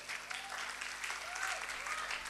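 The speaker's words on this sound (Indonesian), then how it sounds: "Berikan tepuk tangan bagi Allah kita." A church congregation applauds together during a sermon, a dense, steady wash of clapping at moderate distance that lasts the whole moment, with voices mixed in.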